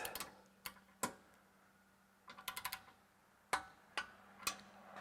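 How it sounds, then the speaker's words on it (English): Torque wrench clicking while bolts are tightened during a king pin adapter install, sharp isolated clicks: a few singles, then a quick cluster of four, then more spaced clicks over a faint steady hum. "Now these will just tighten up until the torque wrench clicks."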